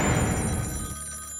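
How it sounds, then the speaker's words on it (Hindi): A telephone rings briefly in a Hindi children's cartoon, a short bright electronic trill heard alone and fading within a second and a half. "नहीं उठाऊंगा, नहीं उठाऊंगा, मैं फोन नहीं उठाऊंगा"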